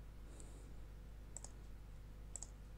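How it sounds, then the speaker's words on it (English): Faint, sharp clicks from a keyboard tray over steady low background hum, arriving as single and paired taps spaced about a second apart. "Can you hear, like, the keyboard tray?"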